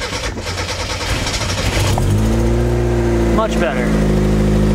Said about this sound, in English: Ignore that backfire. It randomly does that.